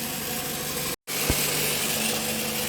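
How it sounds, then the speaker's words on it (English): Engine noise from the accessory drive area of a 2009 Pontiac Vibe 2.4 runs as a steady close whirring hum with a faint whine, broken by a brief cut of silence and a single soft knock. "I have some engine noise going on over there in the accessory drive area."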